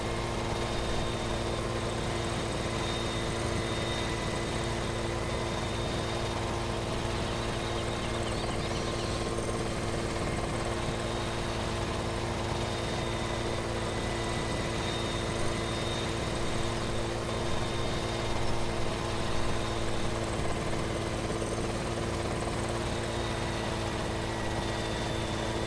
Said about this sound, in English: See if we can park this helicopter down by the sauna, right on the chicken farm.